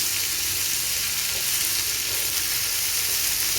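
Potatoes fry in a pan with a dense, even hiss of hot oil, while a spoon stirs them in soft, irregular strokes that stay close and fairly loud.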